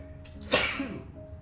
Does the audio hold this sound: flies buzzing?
no